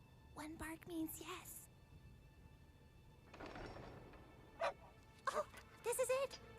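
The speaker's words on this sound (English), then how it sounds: "One bark means yes." A dog barking in an animated RWBY episode, with a few short, separate barks and yips spread across the clip, fairly quiet, with a soft whooshing noise in the middle and faint background hiss.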